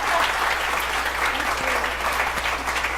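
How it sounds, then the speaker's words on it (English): A full room of audience members applauds a speaker series guest of honor, a steady wash of many hands clapping, even and fairly loud without pause. "let's give her a round of applause before we start"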